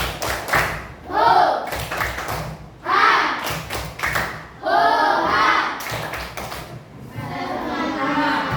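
A classroom of students performs a rhythmic clapping routine in bursts of claps and thumps, with children chanting along between the clap patterns.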